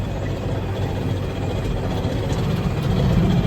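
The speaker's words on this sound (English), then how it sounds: "Is this your first time driving this tractor?" A tractor engine runs steadily at an even, close-up rumble, a low idling drone with a slight vibration that swells a little toward the end, with no talking over it.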